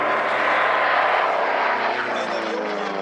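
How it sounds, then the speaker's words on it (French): A P-47 Thunderbolt propeller fighter flies past at the La Ferté-Alais airshow, a loud, steady engine roar that holds throughout with a slight drift in pitch, while a commentator talks over it. "Et celui-ci en est un des 3 plus beaux exemples, le P-47 Thunderbolt."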